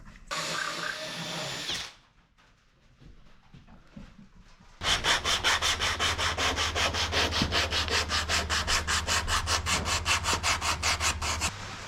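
Seams of a wooden boat's teak deck being cleaned out with a tool. Scraping gives way to a brief quiet spell, then a long run of close, loud, rhythmic rasping strokes like fast sawing.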